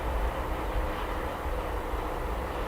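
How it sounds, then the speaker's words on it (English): A Boeing 787 Dreamliner taxis across the runways at DFW Airport, a distant, steady low jet-engine drone with a broadband hiss, heard alone at moderate loudness. "Got a Dreamliner crossing the runways here"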